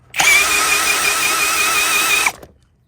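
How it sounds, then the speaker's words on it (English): A power drill running in reverse to spin out a bolt on a 1978 Honda CB400 off-road motorcycle, one loud steady high whine of about two seconds, close by, that stops abruptly and winds down. "A drill in reverse will not. It's just going to spin it"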